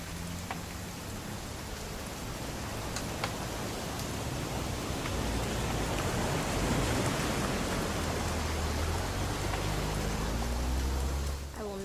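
Heavy rain in the video game What Remains of Edith Finch pours steadily and builds slightly louder, a dense, constant wash of sound with no talking.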